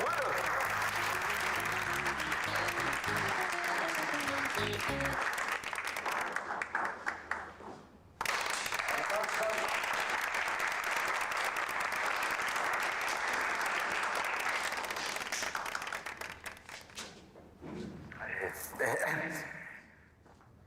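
Applause at a Turkish engagement ceremony: a crowd claps loudly and steadily with music playing, a short pause, then clapping resumes and fades, while a voice speaks briefly over it.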